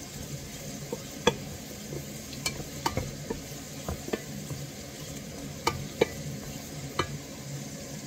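Carrots sauté in hot oil in a pan, sizzling steadily up close while a utensil taps and scrapes now and then during stirring, with no voices.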